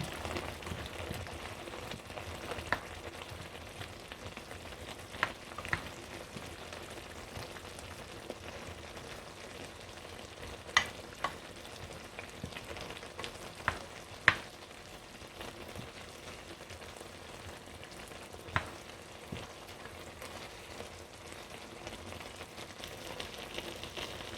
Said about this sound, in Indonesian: Kita masak jamurnya hingga matang.